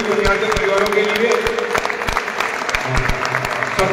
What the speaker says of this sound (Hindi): सभी जोर जोर पर ताली बजाते